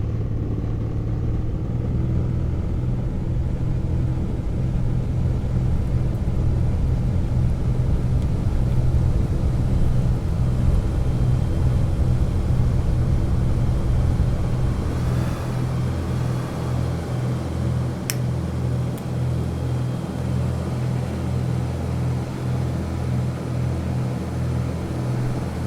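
A light aircraft engine powering up on the runway for takeoff, a steady loud droning rumble with a constant low hum that holds throughout, shifting slightly in tone as power builds.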